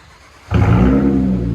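Straight-piped 2007 Acura TL Type S with a 1.5-inch pipe: after a quiet idle, the exhaust bursts into a loud, raspy rev that holds at high pitch close to the microphone.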